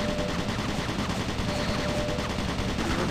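Turret guns firing in the sci-fi shooter Doom 3, a loud, unbroken stream of rapid automatic shots that fills the moment with dense mechanical clatter and no voices.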